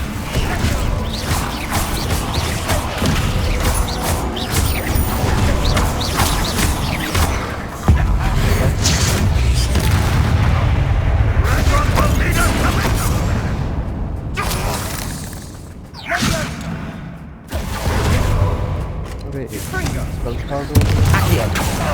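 Spell blasts from the Hogwarts Legacy video game, Confringo and Incendio, with booming explosions and whooshing impacts repeating in a dense, loud barrage, layered with shouted voices over the game's background score.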